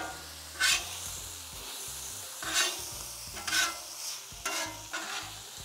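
Food on a Traeger Flatrock griddle sizzles quietly while a spatula scrapes and mixes it in several distinct bursts, each sharp scraping stroke standing out over the soft steady frying hiss.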